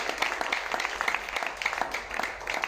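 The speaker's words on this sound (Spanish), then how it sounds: "Denle un aplauso al Señor, hermano." Church congregation clapping in praise during a Spanish-language worship service, a steady, fairly even wash of applause with no pauses.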